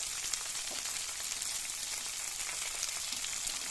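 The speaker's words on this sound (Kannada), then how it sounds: "ಎಲ್ಲ ಫ್ರೈ ಮಾಡಿಬಿಟ್ಟು ಹುರುಳಿ ಕಾಳು ಹಾಕ್ಬಿಟ್ಟು ಕಾಯಿ ತುರಿ ಹಾಕ್ಬಿಟ್ಟು" Onion and grated coconut sizzle steadily in hot oil for horse gram sambar, a continuous, fairly quiet frying crackle with no voices.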